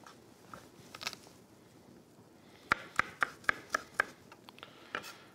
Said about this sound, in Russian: Чеснок я могу вот так вот сейчас нарублю.